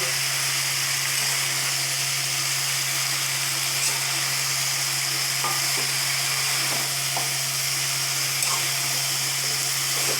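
Fish and pre-boiled taro stolon vegetables sizzle in a pan while being stirred, a continuous close frying hiss with a low steady hum beneath and occasional scraping ticks of the spatula, without speech.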